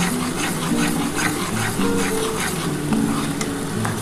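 Masala stirred and fried in oil for a Bengali pabda fish curry with mustard and poppy seed paste, a steady close sizzle with repeated scraping strokes of a spatula throughout.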